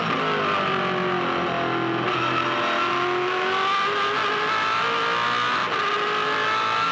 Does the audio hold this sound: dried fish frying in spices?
no